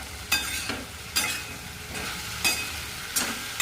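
Okra bhaji with fresh coriander being stirred in a frying pan: four or five distinct scraping strokes of a spoon across the pan over a steady low sizzle, close and clear, with no talking.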